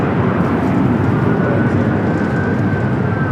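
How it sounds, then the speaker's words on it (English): A Delta airliner rolls for takeoff on runway 24 left at Los Angeles airport, a loud, steady jet roar with a faint rising whine, continuous and without talk. "Delta flight 811 now rolling down to 24 left"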